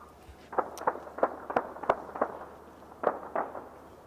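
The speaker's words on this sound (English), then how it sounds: "Got some more gunfire in Beirut." Gunfire crackles in Beirut, roughly a dozen sharp, distant pops in irregular bursts, some in quick pairs, faint against a quiet background with no talk.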